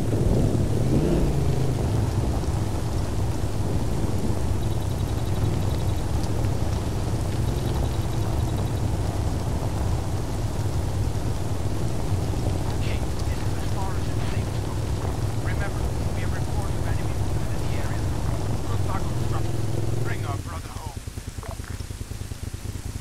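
Rain and rolling thunder in the military game Arma 3 form a steady loud downpour with deep low rumbling that drops away sharply near the end, while a voice speaks now and then.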